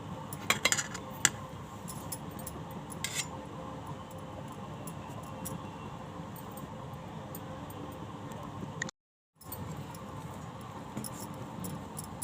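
Moong dal idli batter beaten in a bowl, a busy run of clinking, tapping utensil strokes with a brief drop-out near the end, close and without speech.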